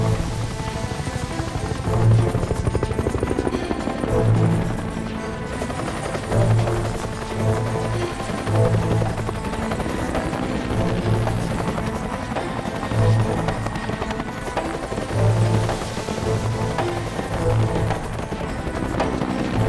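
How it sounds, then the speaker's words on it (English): Rhythmic thudding of firefighting helicopter rotors over a forest fire with a steady engine drone, fairly loud and continuous, the beat pulsing as the craft passes overhead. "The helicopters pick up water from a local lake to douse pockets of blazing forest."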